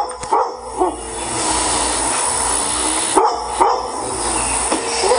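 Dogs bark in several sharp bursts over a steady outdoor background hiss, fairly close and with no talk.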